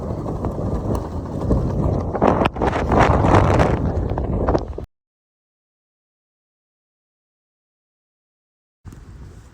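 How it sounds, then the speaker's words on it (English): Strong gusts of wind buffet the microphone on the Clingmans Dome mountaintop along the Appalachian Trail in a loud, rumbling roar for several seconds, then a sudden silence before the blustering returns. "as you could hear, it's windy."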